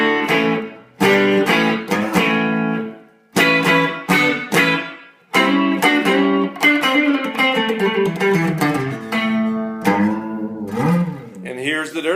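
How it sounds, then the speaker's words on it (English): A 2000 Gibson Les Paul Classic 1960 with Duncan Pearly Gates pickups through a Fender Super Reverb tube amp plays clean and alone, warm chords and single notes ringing out, brief pauses between phrases, slight reverb shimmer. "So here's the clean sound through my Super Reverb."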